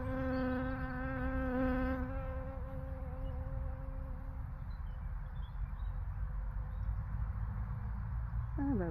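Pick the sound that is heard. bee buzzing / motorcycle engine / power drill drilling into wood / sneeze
bee buzzing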